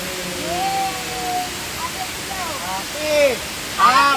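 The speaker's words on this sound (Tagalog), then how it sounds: "We're in Samar Island, Hagimit Falls." Hagimit Falls waterfall on Samal Island gives a steady rushing roar throughout, with people talking and calling out over it nearby.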